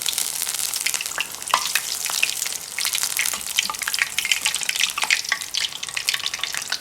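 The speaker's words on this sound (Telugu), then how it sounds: "ఒక సైడ్ కాలుతూనే రెండో సైడు ఆయిల్ కాలడం వల్ల ఇలా బాగా ఎర్రగా వస్తుంది." Poori deep-fries in hot oil with dense, crackling, bubbling sizzle that runs on continuously and close, without pause.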